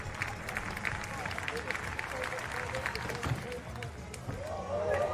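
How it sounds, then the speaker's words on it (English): Crowd at an athletics jump event in Košice clapping in a steady rhythm, a continuous patter of many hands with murmuring voices and an announcer talking over it. "Tapping in the crowd as they eagerly anticipate what he has in store this time round."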